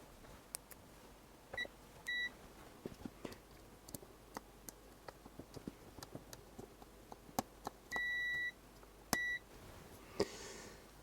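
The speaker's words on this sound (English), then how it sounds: "I will just check against continuity across the voltage rails." A continuity tester on a Minstrel 4D kit computer, a Jupiter Ace compatible board, gives short high beeps, one noticeably longer, amid scattered faint clicks and taps, with no one talking.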